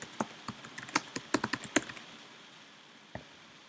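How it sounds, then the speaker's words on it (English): Someone types on a computer keyboard in a quiet room. About two seconds of quick, close key clicks come in an irregular rhythm, then one lone keystroke follows after a pause. "type computer science into Google."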